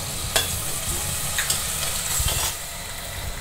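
Onion and medium-size tomato with salt sizzle and fry in a pan for a Navadhaniya pulao, a steady close hiss broken by a few brief stirring scrapes.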